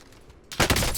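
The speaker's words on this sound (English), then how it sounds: "Where'd he shoot us from?" Gunfire in a shooting video game, a sudden loud burst of shots erupting about halfway through after a quiet lead-in, with no talk over it.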